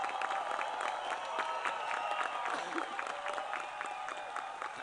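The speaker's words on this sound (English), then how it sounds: "I want the parents and friends to clap for the kids that are going to graduate" Dense, steady applause from a large graduation audience, continuous clapping with a faint crowd murmur underneath, holding at an even level throughout.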